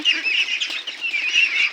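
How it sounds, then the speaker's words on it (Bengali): A crowd of Peking ducks quacking and chattering continuously at close range, a busy, dense chorus of calls with no pauses. "আমাদের এই পিকিং স্টার হাঁস"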